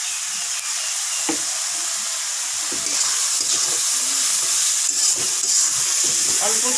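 Prawns frying with turmeric, a little sugar and chilli powder in a hot pan, a loud, dense, unbroken sizzling hiss close up, with faint scraping stirs underneath.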